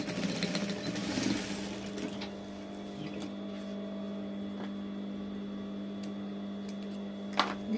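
A sewing machine stitches a blouse with a steady, even mechanical whir running the whole time, slightly busier at the start, with a faint click near the end.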